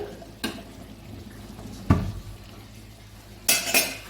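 A metal lid clinks onto a pot of mutton and potato curry in a home kitchen after the gas is turned off, giving a few distinct clattering knocks spaced apart with quiet between them.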